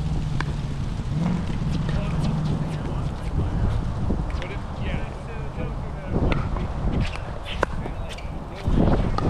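Steady wind noise buffets the microphone outdoors in a park during a ball-drawing game, a continuous low rumble with occasional gusts under brief talk.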